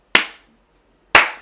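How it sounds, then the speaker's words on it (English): Two sharp, loud hand claps about a second apart, made to sync audio for a PS4 and Elgato HD60s gaming setup, each close and ringing briefly in a quiet room. "Just doing a clap is better."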